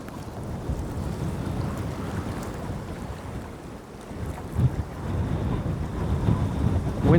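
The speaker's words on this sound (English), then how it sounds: "Wind is brutal today." Strong wind roars steadily across the ocean while fishing from a boat off Ocean City, Maryland, buffeting the microphone with gusts that swell louder toward the end.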